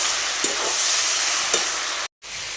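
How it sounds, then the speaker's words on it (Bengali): Cabbage sabzi sizzles steadily in a hot pan while a spoon stirs it, scraping twice in brief strokes over a constant, close frying hiss that cuts out for a moment near the end. "এখন আমি রান্না করছি হচ্ছে বাঁধাকপির সবজি, ভেজে নিচ্ছি"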